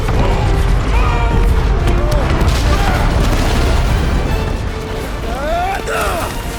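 In Marvel's Guardians of the Galaxy, a dense rumbling blast roars on with crashing debris and whooshing effects, loud and sustained, while characters shout over the chaos.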